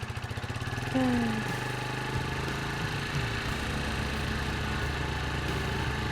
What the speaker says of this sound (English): Okay, turning on the moped.